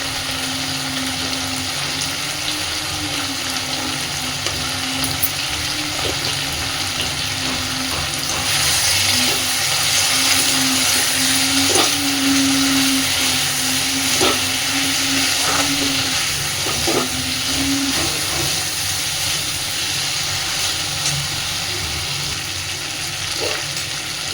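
Potatoes and prawns fry in a pan with chili powder as prawn curry cooks, giving a steady close sizzle and hiss that swells midway, with no talk.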